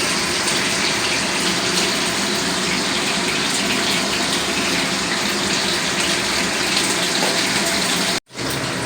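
Water gushes steadily from an Aquaguard drinking water purifier, a loud continuous close rush that cuts off abruptly near the end.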